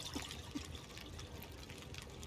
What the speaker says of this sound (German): Dann noch mal ein bisschen Wasser.